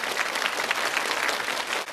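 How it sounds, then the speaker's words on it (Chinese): Studio audience applause for a husband-and-wife team on a Chinese stunt challenge show after their failed first attempt, steady clapping throughout at close, even loudness with no speech. "来，把掌声送给他们，给他们第二次加加油。"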